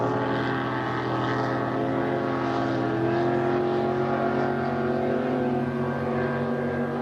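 Pro Stock racing powerboat engines drone steadily from a moderate distance during a heat race at Syracuse, a continuous humming roar that holds level without breaks.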